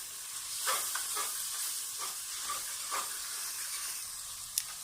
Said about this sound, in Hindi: 1 कप के बराबर मैं इसमें सूखी मेथी डालने लगी हूँ। इसको हम भूनेंगे 2 से 4 मिनट तक।